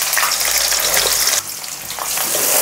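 Onion pieces hit hot oil for a Telangana-style goat head curry, a loud, close, steady sizzle with a brief dip partway through before the hiss swells again.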